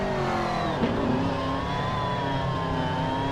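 A race car in the Gran Turismo video game, racing at Monza, brakes into the chicane: a loud, continuous, high-pitched engine drone whose pitch shifts slightly, with a brief blip partway through.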